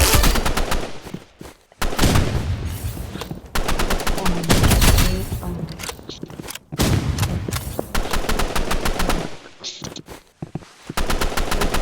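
Rapid bursts of automatic gunfire in a shooting video game, loud and close, with sustained machine-gun volleys broken by brief pauses and separate short strings of shots.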